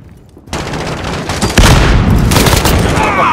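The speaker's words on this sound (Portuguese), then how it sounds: "Jogando granada!" A grenade blast in Call of Duty: Modern Warfare erupts as a loud boom amid ongoing gunfire, with a second heavier burst of explosive noise following about a second later and a dense battle din continuing throughout.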